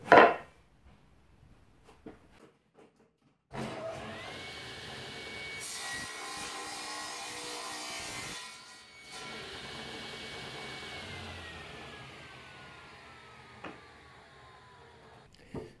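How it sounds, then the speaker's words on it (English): A hand saw cuts a half lap joint in wood, with a steady, continuous rasping stroke sustained for several seconds after a sharp knock, close and alone. "I'm going to cut another half lap on this one"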